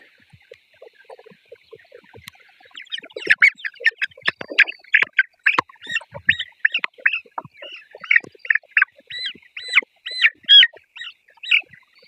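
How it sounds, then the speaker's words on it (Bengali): Sonali super hybrid chickens squawk and cackle loudly while being caught at a poultry farm, a burst of repeated harsh close calls with flapping and scuffling, no talk. "মুরগি ধরা খুব কঠিন"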